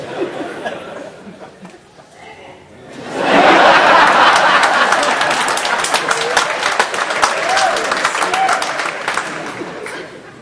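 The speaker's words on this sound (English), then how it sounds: "You're clapping." A concert audience breaks into loud, dense clapping after a quiet stretch of murmuring and chuckles, the applause holding strong and close with laughter and chatter mixed in.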